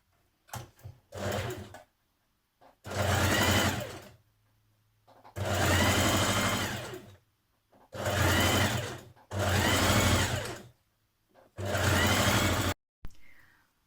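A sewing machine stitches a single fold hem on a tunic/dress, running in five loud bursts of about one to two seconds each, separated by short pauses.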